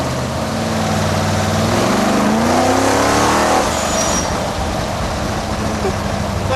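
A road-legal supercar of about 2,000 horsepower accelerating hard: a loud engine roar rising steeply in pitch over a few seconds, then easing into a sustained high-revving drone, heard from inside the car with a voice under it.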